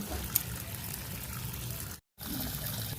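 Potatoes being washed in water in a home kitchen while making potato chips: steady faint trickling and sloshing with a brief cut partway through, no talk.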